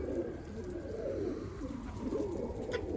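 A pigeon coos softly in low, rolling murmurs that repeat steadily against a quiet background.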